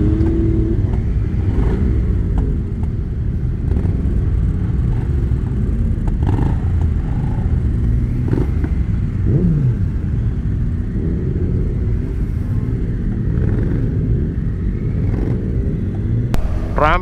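A loud Ducati Panigale V4 motorcycle ridden in a group ride, heard as a continuous close engine roar and rumble with wind noise, shifting revs throughout and a rising rev near the end.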